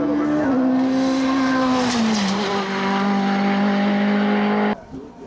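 Norma M20 FC sports prototype in CN2 class racing up the Teurses Théréval-Agneaux hillclimb in Normandy, engine screaming at high revs close by with a steady pitch, a brief shift dip, then cutting off abruptly near the end.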